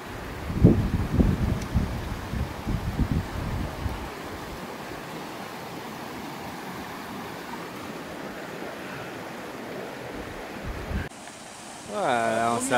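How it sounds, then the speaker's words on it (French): A mountain torrent rushes beside a hiking trail on a trek to the Pétarel lakes. The water hisses steadily, choppier and louder at first, then a smoother wash, and a voice speaks briefly near the end. "On se retrouve à côté du torrent."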